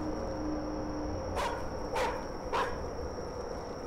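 Dog barking in the horror video game Chilla's Art: The Karaoke, three sharp barks spaced about half a second apart over a low background hum, no talk.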